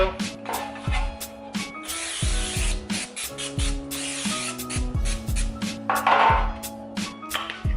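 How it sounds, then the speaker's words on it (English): Olive oil cooking spray hisses onto a non-stick pan in two sustained bursts, each lasting about a second, with kitchen clatter and soft music-like tones underneath. "I'm just going to coat it with a little bit of olive spray"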